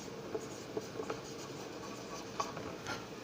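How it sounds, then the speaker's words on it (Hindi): Marker or chalk writes on a board during a chemistry lecture, giving faint scattered taps and scratchy strokes over a quiet room background. "अभी ड्राई ईथर यहाँ पे भी लिखेंगे अपन।"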